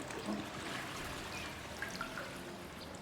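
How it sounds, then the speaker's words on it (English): Water flows through pipes in the video game Parking World, a faint steady trickling stream with small bubbling blips and no talking. "As you can see here, look, the water's flowing now."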